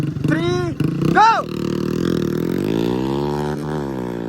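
Motorcycles rev and roar at the start of a desert bike race, their engines rising and holding a steady drone, with someone shouting over the opening moments.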